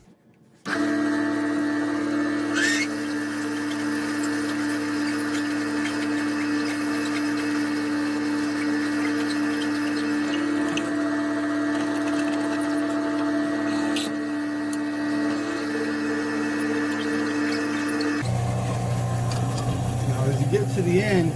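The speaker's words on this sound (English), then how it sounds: "So I will go ahead and drill my 1/4 inch hole." A drill whirs steadily while boring a 1/4 inch hole in a handmade duck call, a constant close motor drone that runs for most of the clip before stopping and giving way to a lower mechanical sound.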